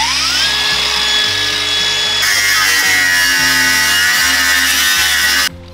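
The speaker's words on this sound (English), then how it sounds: "I just got to cut a tiny little bit more off" A power cutter slices metal from the body of a rare VW Razorback van, a steady high-pitched grinding whine with a rising tone at the start, running continuously and close before cutting off abruptly near the end.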